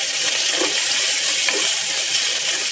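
Ginger, onion and garlic sauté in a pan for chicken tinola, a dense, loud and continuous hiss of frying that stays level the whole time with a couple of faint stirring knocks.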